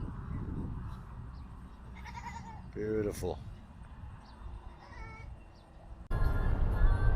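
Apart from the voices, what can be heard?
sheep bleating in the desert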